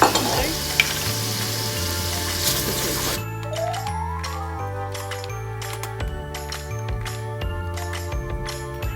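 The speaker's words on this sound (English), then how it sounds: "now's your time to add in the garlic." Garlic sizzling in a pan for Japanese chicken curry, a steady close crackle over a background of low, stepped music tones, with a few light clinks.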